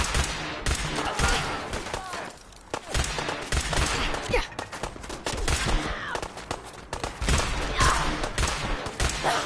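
Dense Fallout 4 gunfire, a steady stream of rapid shots and bursts layered together, loud and close throughout with a brief lull near the middle, while voices shout over the shooting.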